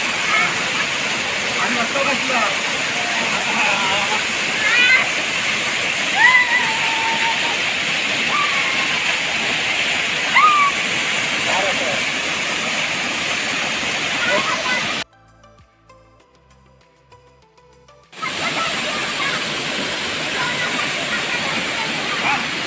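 Brahmadev waterfall at Donivade, running low after light rain, pours over black rock in a steady, broad roar that holds throughout apart from a brief drop to near silence.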